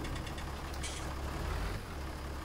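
A tractor in Farming Simulator 19 drives downhill on the Voralpen map, with a low, steady engine rumble and faint mechanical rattles throughout.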